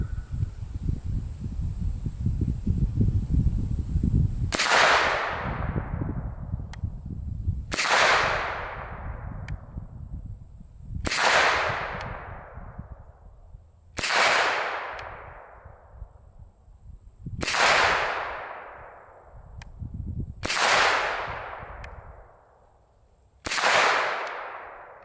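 Seven sharp gunshots from a Calico Liberty pistol ring out one at a time at spaced, slightly uneven intervals, each loud crack trailing off in a brief echo, with low rustling handling noise before the first shot.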